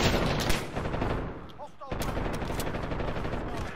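LMG gunfire in Call of Duty Warzone, rapid sustained bursts of close automatic fire that break off briefly in the middle and then resume.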